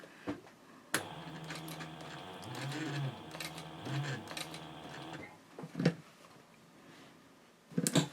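A sewing machine stitches a pocket on a Bellezza handbag, its motor whirring steadily for about four seconds with brief pauses, followed by a few sharp clicks and handling knocks.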